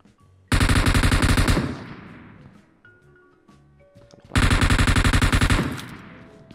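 Gunfire in the mobile battle-royale game PUBG Mobile, two loud rapid automatic bursts of about a second each separated by a few seconds of quiet, each burst trailing off into an echoing decay.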